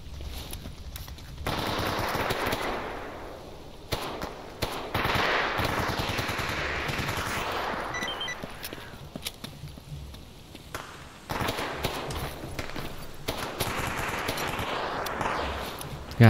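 Rapid bursts of video game machine-gun fire rattle in long sustained volleys separated by short pauses, fairly loud and dense throughout.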